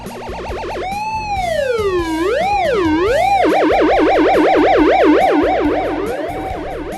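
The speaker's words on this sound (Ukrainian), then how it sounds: "Сигнал належить поліцейській машині." A police car siren wails up and down, then switches to a fast, loud yelping pattern, with a soft rhythmic backing underneath throughout.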